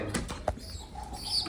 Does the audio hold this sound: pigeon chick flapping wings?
yes